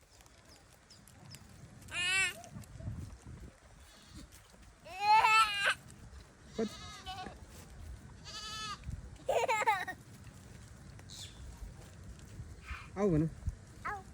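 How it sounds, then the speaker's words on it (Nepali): Goats at a zoo bleat several times at varying distances, with wavering, nasal cries scattered over quiet background chatter. People talk nearby between the calls. "कतिवटा बाख्रा छ हेर?"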